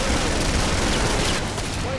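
Dense, continuous gunfire from the Killing Floor video game fills the whole stretch at high level as a constant roar of rapid shots.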